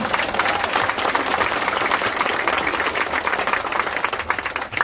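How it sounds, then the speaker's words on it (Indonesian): Audience at an Indonesian religious gathering clapping for Abuya Agus Muslim, loud, sustained, dense applause from many hands throughout with a faint murmur of crowd voices underneath. "Tepuk tangan buat Abuya Agus Muslim"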